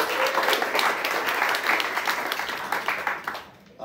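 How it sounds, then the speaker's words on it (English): Live game-show audience in a New York club applauds contestant Ben, a dense, steady wash of clapping that holds at full strength for several seconds before dropping off abruptly near the end. "Clap it up for Ben."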